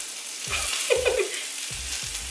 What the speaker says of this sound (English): so you're gonna saute the peppers